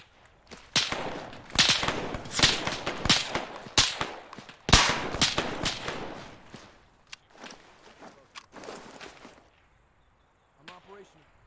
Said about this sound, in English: Still one over there somewhere shooting at me.